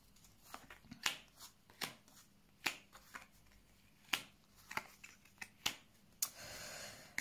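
Cards are shuffled for a card reading: a quiet series of sharp riffling snaps and flicks spaced irregularly, ending in a brief soft continuous rustle, close and with no speech.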